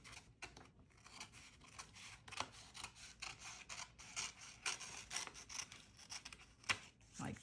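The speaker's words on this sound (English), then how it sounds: "so I would cut this piece off" Scissors snip a paper piece off a handmade slimline slider card, a quiet run of close, rasping cuts and rustles with no talk.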